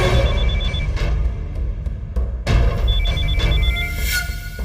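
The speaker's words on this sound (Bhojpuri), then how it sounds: "रघुराज के फोन आवत।" A telephone rings in two repeated electronic bursts with a short pause between them, loud and clear over a dense background score in a Bhojpuri film scene.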